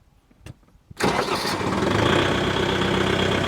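Kubota 5502 4x4 tractor engine cranks and catches after a couple of brief clicks, then settles into a steady, loud diesel idle that runs on alone and close by.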